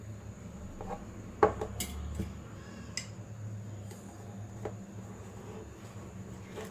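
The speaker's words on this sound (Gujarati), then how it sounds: "છરી ફેરવી લઈએ એટલે આસાનીથી પછી નીકળી જાય" An oiled knife runs through hot steamed Gujarati patra in a pan, giving a few quiet metallic clinks and light scraping taps, with one sharper knock early on.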